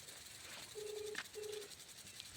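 Two short keypad tones from a phone being dialled, faint and close, with a soft click between them over quiet background hiss.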